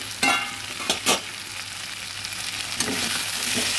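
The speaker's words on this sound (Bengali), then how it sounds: "সব কপি আলু টমেটো সব সুন্দর ভাজা হয়ে গেছে" Cauliflower, potato and tomato frying in a pan, a steady loud sizzle broken by a few quick scrapes and clatters of a spatula stirring near the start and toward the end.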